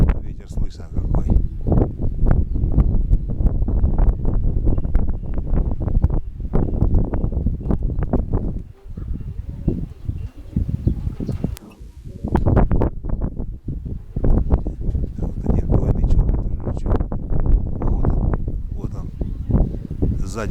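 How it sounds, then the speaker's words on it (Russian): Strong gusts of wind, up to 16 m/s, buffet the microphone in loud, irregular bursts of low roaring rumble, easing briefly in the middle before surging again. "Ветер слышно какой."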